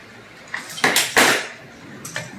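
Whisk and utensils clink against a bowl of milk while mixing up gravy for a Southern chuck roast, several sharp clattering strikes in quick succession over a quiet background, with no talking.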